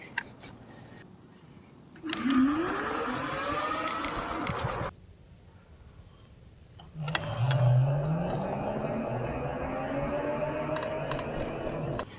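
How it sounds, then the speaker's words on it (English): An electric scooter's motor whines up as the rider pushes off, two sustained tonal surges with sliding pitch, close and fairly loud against a low rumbling background. "I had engaged the motor the second I pushed off"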